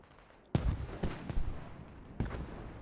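Several sharp booming blasts of artillery fire in the Squad video game: one loud hit, two or three quicker follow-ups and another a moment later, each trailing off in a rumbling echo.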